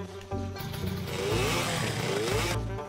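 Small moped engine in the video game Lakeview Valley, a buzzing motor that revs up and holds a steady rasping drone with rising and falling pitch sweeps, loud and close, with no talk.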